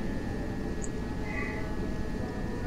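Toronto Rocket subway train in the TWS simulator game, a steady low rumble of the running train with a faint electrical whine, continuous and close.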